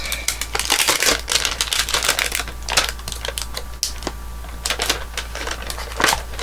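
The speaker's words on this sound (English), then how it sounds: "if we want to stamp the inside of the card, now is the time to do that" A rubber stamp pressed and worked onto the inside of a Christmas card, giving a busy series of close, sharp tapping and rustling clicks over a steady low hum.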